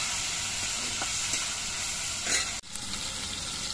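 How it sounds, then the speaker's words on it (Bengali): Prawns frying in hot oil, a steady close sizzle with a few soft stirring scrapes and one brief dip partway through, no voices. "এবার প্রথমে আমি চিংড়ি মাছগুলো ভেজে নিচ্ছি।"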